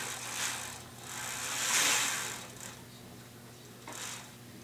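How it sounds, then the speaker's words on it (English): A ratchet wrench clicks in short bursts while tightening the axle bolts on a BMX bike wheel, close and fairly quiet over a faint background hum. "Now I can go ahead and tighten these down."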